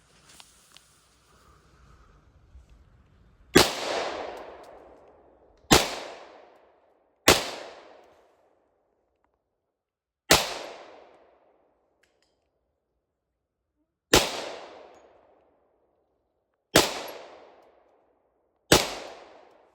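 Seven sharp, loud 10mm rounds from a Glock model 40 pistol fired outdoors at irregular intervals of a few seconds, each crack trailing into a brief echoing decay, with quiet gaps between and no talking.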